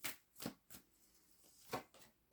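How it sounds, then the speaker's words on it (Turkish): Tarot cards slid and drawn from a deck at close range, producing a few quiet, sharp papery swishes and snaps separated by short pauses. "Şöyle bir kart daha çekelim."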